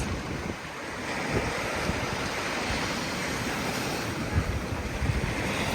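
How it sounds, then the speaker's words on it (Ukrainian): Rough Black Sea surf washing onto a beach in July, a steady close roar of breaking waves mixed with gusty wind buffeting the microphone. "Море з обіда таке схвильоване."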